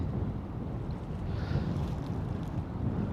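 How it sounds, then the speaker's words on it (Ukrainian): Strong wind buffets the microphone while perch fishing from a boat on the Dnipro river, a constant loud low roar with faint water movement underneath and no speech. "що ж вітер, тільки що ж не було його, бачите, яка погода"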